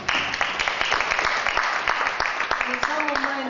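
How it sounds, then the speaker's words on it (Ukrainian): Audience applause at a Ukrainian poetry reading event, steady dense clapping throughout with a voice starting to speak near the end. "Ще раз оплески Олександру"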